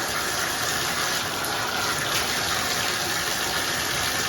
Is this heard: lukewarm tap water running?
yes